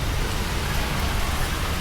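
Steady rain falls at a travel stop in the Philippines before an island hopping tour, a dense, even hiss of drops on surfaces running unbroken and fairly loud throughout, with no voices.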